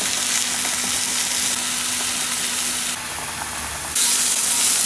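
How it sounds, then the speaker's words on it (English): Loud, continuous sizzling of chicken frying in a hot pan, a dense crackling hiss that dips briefly and then surges back. "Chicken's going to go straight onto the frying pan and then seasoned when it starts to cook."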